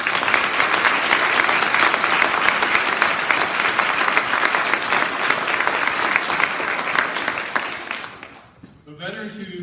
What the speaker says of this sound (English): And one more round of applause for these folks.